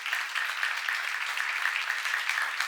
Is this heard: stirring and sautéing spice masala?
no